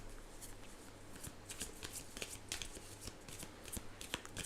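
Tarot cards being shuffled by hand, a dense run of soft riffling flicks and slaps that continues steadily and close up, with no talking.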